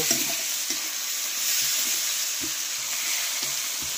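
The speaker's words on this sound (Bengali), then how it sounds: "আদা কুচি, পেঁয়াজ, পেঁয়াজ, তারপর একটু ফ্রাই করে নিব" Chopped ginger and onion frying for a fish curry, a loud, continuous sizzle with faint periodic scraping of a spatula, no voices.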